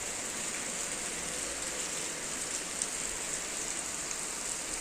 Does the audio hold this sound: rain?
yes